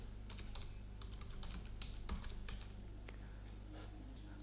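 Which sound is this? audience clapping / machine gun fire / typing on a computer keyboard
typing on a computer keyboard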